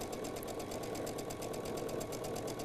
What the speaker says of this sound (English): So I'm going to stitch just a little piece of this